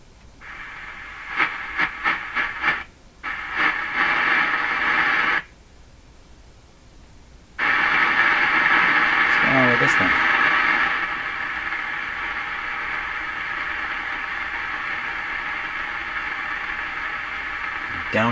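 Steady broadband hiss from a National HRO-500 shortwave receiver tuned near 27 with no signal, broken by a few short pulses and gaps early on, then a continuous loud hiss with a brief warbling tone.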